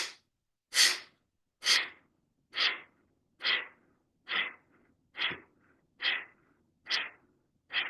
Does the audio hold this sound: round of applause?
no